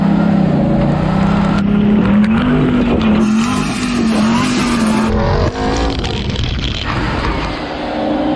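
Hennessey Mammoth truck climbing off-road in four-wheel-drive low and second gear, its engine roaring loud and close throughout with a rising, wavering pitch and gravelly rock spray beneath, briefly dipping before pushing on.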